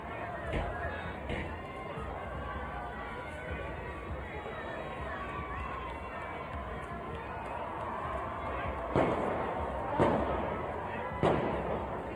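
Gunshots on a street during a riot: several sharp, fairly distant cracks near the end, heard over a murmuring crowd and people talking.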